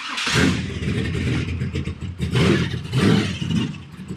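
A loud nitrous LS V8 engine swapped into a Mustang race car starts, roaring and revving unevenly, surging and dipping repeatedly at close range, with no talking.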